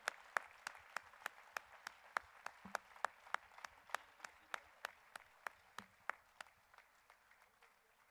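Steady, evenly paced clapping at a Jain religious gathering on Mahavir Jayanti, honouring a donation for cow protection; sharp claps repeat at a regular beat for about eight seconds over a faint background, with no one speaking.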